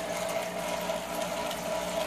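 Aquarium filter running on a 55-gallon planted tank gives a faint, steady trickle and low pump hum, continuous and quiet with no voices.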